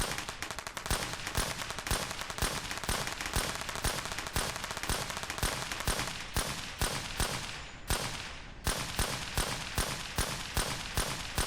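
A scoped gun fires rapid, evenly spaced shots in the zombie survival game SurrounDead, loud and close, with a brief pause before the volley resumes.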